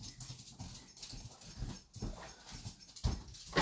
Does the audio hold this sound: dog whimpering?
yes